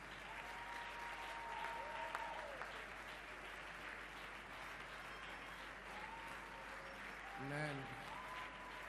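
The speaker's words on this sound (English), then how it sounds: "Keep clapping, keep clapping." A congregation at a church youth rally applauding in a large space, a continuous far-off wash of clapping, quiet overall, with faint voices and a short vocal sound near the end.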